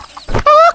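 A cartoon chicken gives one short, loud, nasal cluck right after a soft thump, heard close and alone.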